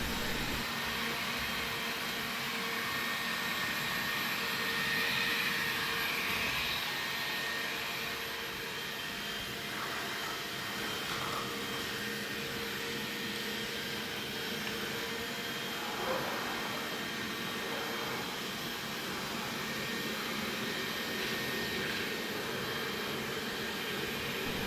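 A Xiaomi Vacuum Mop 2 robot vacuum runs across the floor, a steady moderate whirring motor drone with sweeping brush noise that stays constant throughout.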